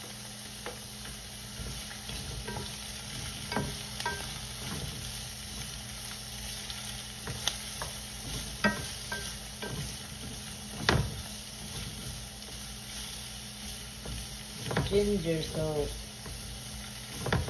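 Ginger sizzles steadily in a pot while cooking escabeche, a continuous crackling fry with occasional stirring scrapes and a brief spoken word.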